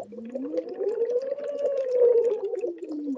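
A human voice imitates a siren in a voice exercise, blowing through a sliding hum that rises and falls in one smooth, wavering sweep, close and fairly soft, with no other sound around it.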